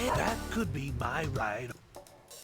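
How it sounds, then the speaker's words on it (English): A dog in a video game gives a few yipping barks and whimpers, close and fairly loud, mixed with a man's speech. "That's a dog."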